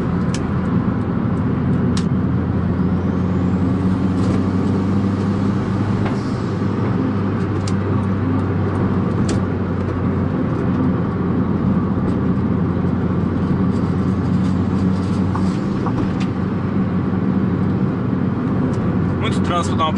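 A Chevrolet Astra Turbo drives through heavy traffic, its engine a constant close hum over road rumble. Brief clicks and passing vehicles break in, and someone talks over the noise at times.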